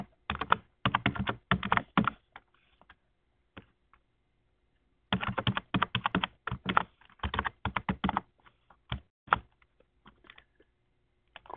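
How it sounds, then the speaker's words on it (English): A user ID and password are typed on a computer keyboard in a quiet room, with two bursts of rapid, close key clicks separated by a pause and followed by scattered single keystrokes. "I'm going to type in my user ID and password."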